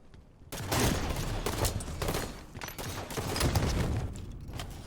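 Rapid gunfire from a competitive shooter video game, with a pistol finishing off an opponent: a dense burst of sharp shots crackling over several seconds, loud and close, with a short quiet moment at the start.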